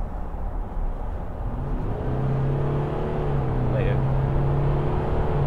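A VW Amarok 3.0 V6 TDI pickup in sport mode pulls hard under steady acceleration, its diesel drone rising in pitch with a brief shift near the end, heard from inside the cab.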